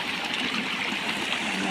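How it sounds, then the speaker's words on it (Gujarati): Water runs steadily through an irrigation channel and pours into a tank on a farm, a continuous, close gurgling rush with no pauses. "ટાંકીમાં સરસ મજાનું પાણી હાલ્યું જાય"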